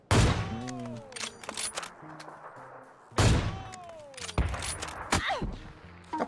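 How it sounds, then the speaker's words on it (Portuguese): Rapid bursts of PUBG gunfire crackle in two clusters, loud and close, with sharp shots and thumps scattered between them. "O cara tá gastando as últimas balas dele antes de tomar um tiro de AWM na cara"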